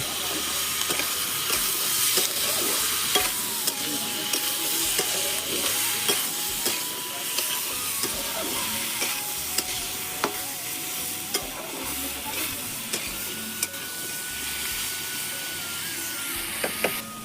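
Potatoes and onions fry in a pan with a steady close sizzle and frequent stirring scrapes and taps of a spatula, continuous and even throughout.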